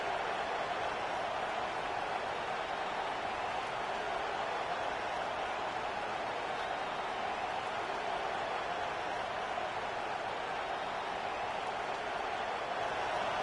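Stadium crowd at a Notre Dame vs Iowa college football game, a loud, steady roar that holds evenly throughout without letting up.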